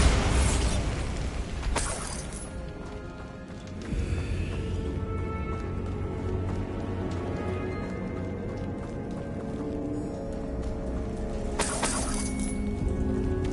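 In Hogwarts Legacy, a Bombarda blasting spell sets off a loud explosive burst followed by rumbling debris. A second sharp blast comes near the end, with no talk over it.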